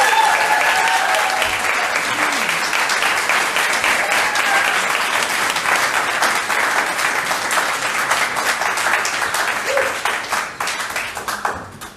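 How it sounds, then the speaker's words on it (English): Sustained applause from a seated audience at a youth policy event in England, dense and steady for the whole stretch, fading slightly at the very end with no talk over it. "he deserves a round of applause as well"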